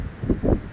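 Strong wind blows through trees near a coastal temple at Ganpatipule, heard as a steady rushing roar with two gusty swells, close to the microphone and without talk.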